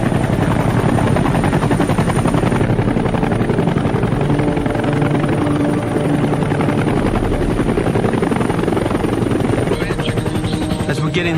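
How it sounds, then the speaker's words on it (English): A helicopter at a Vietnam War landing zone during pickup, its loud, steady rotor chop and engine roar filling the whole scene continuously. "I head over to the chopper he points towards."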